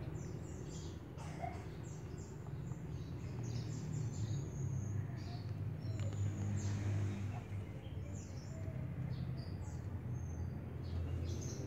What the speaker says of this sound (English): There are plenty of birds here.